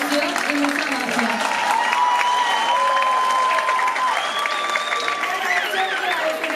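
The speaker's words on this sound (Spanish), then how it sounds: "Un fuerte aplauso." Audience applauding for a magician at a live magic show, dense sustained clapping from a crowd throughout with light cheering, while a voice speaks over the applause.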